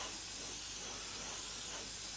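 An airbrush mists a light metallic paint coat onto the intake and compressor blade area of a 1/32 Tamiya F-16CJ model kit, a steady close airy hiss running unbroken throughout.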